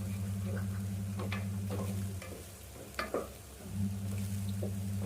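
Onions sizzling in a pan for broken rice upma, a steady close frying hiss with scattered spatters and a few stirring scrapes partway through.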